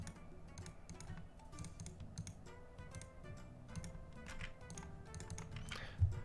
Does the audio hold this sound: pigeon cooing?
no